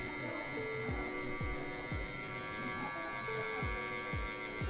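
Electric hair clipper buzzing steadily while cutting a mid fade in a barbershop, a constant close hum broken by repeated short strokes as the blade passes through hair.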